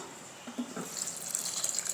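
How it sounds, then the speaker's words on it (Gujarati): Water pours into a mixer jar holding soaked lentils, rice and fenugreek seeds, a short close trickle that builds to a brighter splashing stream. "થોડું પાણી ઉમેરી દઈશું."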